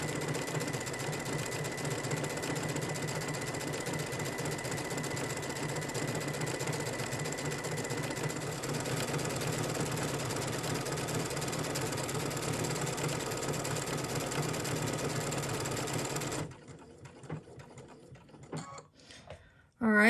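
A sewing machine runs a repeated tapering stitch pattern in one long, steady, even hum of rapid needle strokes for about sixteen seconds, then stops automatically, followed by scattered handling clicks and rustles.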